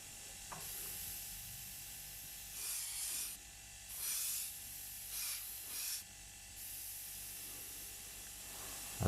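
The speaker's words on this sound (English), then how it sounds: "I'm just applying pure air now, just to dry that first coat." An airbrush blows pure air to dry the first paint coat on a 1/32 English Electric Lightning scale model, giving soft, close hissing puffs of a second or so each, separated by quiet pauses over a low background hum.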